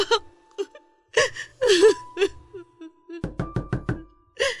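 Sharp knocks on a door come as a quick burst of four or five close raps near the end, after stretches of tearful sobbing and voices talking, all fairly loud in an indoor dramatic scene.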